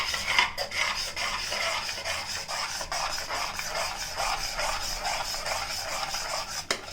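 A spoon scrapes and rubs steadily against a pan as tomato chutney with jaggery is tossed and mixed, a continuous gritty stirring texture with a couple of sharp metallic knocks and no talking.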